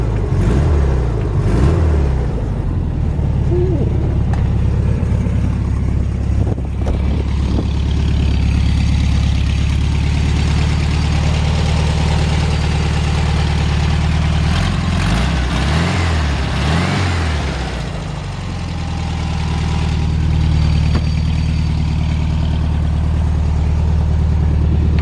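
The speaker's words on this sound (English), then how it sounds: "It's got a nice healthy engine." A 1962 Volkswagen Beetle ragtop's engine runs steadily at idle, a close, continuous low mechanical rumble with brief swells where it is revved, no one talking over it.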